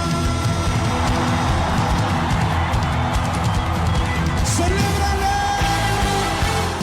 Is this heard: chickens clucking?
no